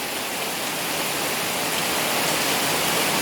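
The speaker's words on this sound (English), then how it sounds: "Lots of water pouring down suddenly. There's another waterfall." Rainwater pours down like a waterfall in a garden during a heavy downpour, making a dense, loud, steady rushing hiss that builds slightly over a few seconds.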